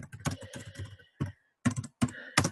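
Typing on a computer keyboard, close, crisp clusters of rapid keystrokes broken by short pauses, with no voices.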